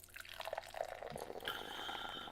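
Ginger ale is poured into a glass, a faint fizzy trickle and drip with a rising bubbly tone as the glass fills, quiet and close with no talk over it.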